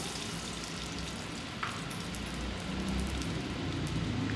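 Mustard seeds splutter in hot oil for a tempering, a dense, continuous crackling hiss close by that holds steady throughout, with no talking.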